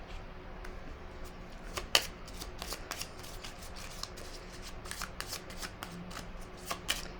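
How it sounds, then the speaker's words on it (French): Oracle cards shuffled by hand for a card reading, a steady run of crisp riffling flutters and soft slaps across several seconds, close and quiet with no voice. "Je vais vérifier la carte du message."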